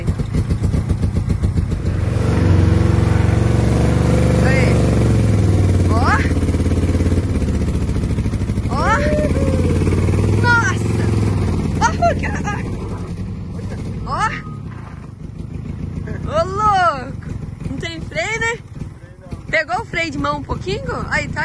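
A Chevrolet Chevette engine revs up loudly and holds a rough, droning roar, then eases down to a lumpy idle while someone talks over it and makes a few whooping sounds.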